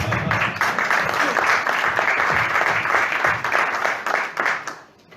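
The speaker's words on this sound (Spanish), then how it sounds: "Otro aplauso." Audience applause during a talk at a cultural event, loud sustained clapping from a crowd for about four seconds before it dies away, with a faint voice under it.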